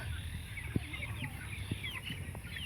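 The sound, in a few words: chickens clucking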